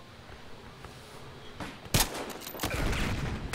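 Battlefield Hardline gunfire crackles in sharp bursts, one loud crack standing out, followed by a rattle of shots at mid distance.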